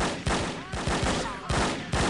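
Gunfire in the No One Lives Forever shooter game, a series of punchy shots spaced roughly every half second, loud and close, with no talk.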